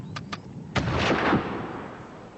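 Artillery fire during a Boer War battle at Spion Kop, with Boer guns shelling a British trench: two sharp reports, then a heavier blast that rolls on in a long, fading rumble.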